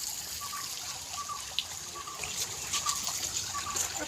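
Water from a fountain in Lalbagh park trickles and splashes steadily as someone washes their feet in it, with faint outdoor background noise.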